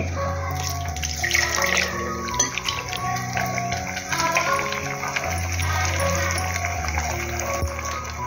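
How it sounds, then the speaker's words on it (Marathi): Water splashes and sloshes in a pot being rinsed, with clinking and scraping in a steady, close-up wash. "हे भांडच धुवून घेणार आम्ही."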